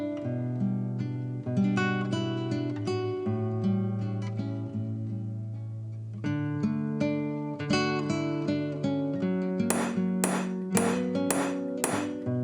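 Center punch struck with a hammer against a 3/8-inch steel plate base, a series of ringing metallic taps with lingering tones, speeding into quick clustered strikes near the end.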